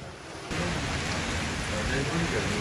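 Heavy rain pours down during a storm, a dense steady hiss of water falling on surfaces that swells louder after a brief quieter opening, with no clear voices.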